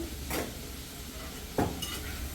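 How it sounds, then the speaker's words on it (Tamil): Ingredients are stirred and sautéed in a pan at home, with a spoon clinking and scraping twice against the pan over a steady, quiet sizzle. "இப்போ இதை போட்டு வதக்கிட்டு"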